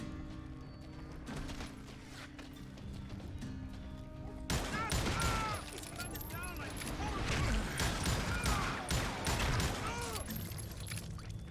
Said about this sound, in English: I sure do shoot fast